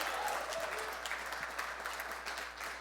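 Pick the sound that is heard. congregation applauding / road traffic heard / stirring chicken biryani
congregation applauding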